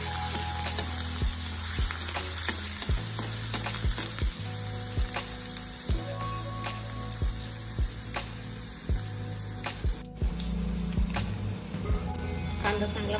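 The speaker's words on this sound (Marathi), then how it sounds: "त्यामध्ये मी हा बारीक चिरलेला कांदा टाकला आणि छान परतून घ्यायचं" Finely chopped onion sizzling steadily in hot oil with cumin, a dense continuous crackle interrupted by regular sharp scraping clicks of a spoon against the pan.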